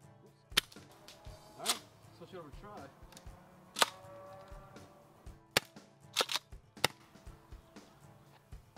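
Jag Arms airsoft gas shotgun fired in 6-shot mode, a handful of sharp, loud cracks spaced irregularly, with pump racking clacks and faint mechanical noise between shots.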